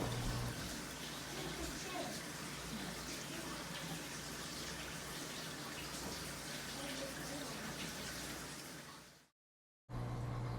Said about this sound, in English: it siphons out the rest of the water that I want